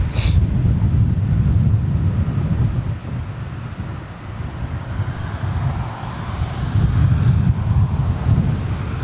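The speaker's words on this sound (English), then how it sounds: "Sort of kind of blustery in a funny sort of way. Turning into a bit of a crosswind." Blustery crosswind at a London airport buffets the microphone in heavy, rumbling gusts that rise and ease over several seconds, with no other clear sounds above the roar.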